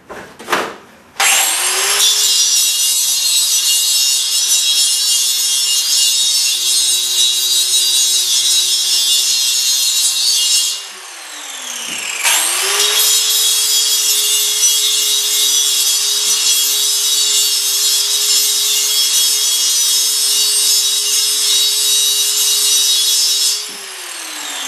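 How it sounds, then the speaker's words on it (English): An angle grinder fitted with a grinding wheel smooths spot welds on a steel rocket stove, a loud, steady high-pitched whine running for about ten seconds, dipping briefly, then grinding on again for another stretch. "now I'm going to take my angle grinder with a grinding wheel on it, and I just touch these little spot welds up a little bit"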